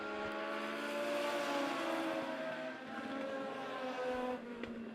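Race cars roar around an oval at Monett Motor Speedway, a layered engine drone with rising and falling pitch as several cars pass, loud and continuous without speech.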